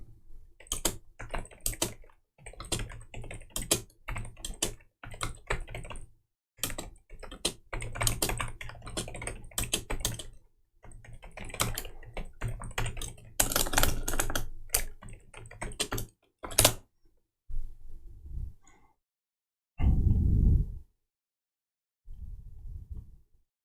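Close, crisp clicking of someone typing on a computer keyboard comes in rapid irregular bursts of keystrokes. Short pauses separate the runs, and a few isolated taps and soft thuds follow near the end.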